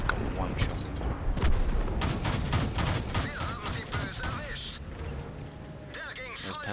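Tank cannon fire and impacts in World of Tanks, playing a Panzer II D, with a burst of rapid, clustered booms and mechanical clanks in the middle over a constant engine rumble, plus whistling, crackling game effects and a voice speaking over it.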